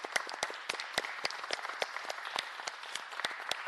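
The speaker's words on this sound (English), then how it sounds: "So give them one big round of applause." Scattered applause from a smallish audience at a business and professional women's meeting, individual sharp claps distinct over a soft continuous patter, moderately quiet and close.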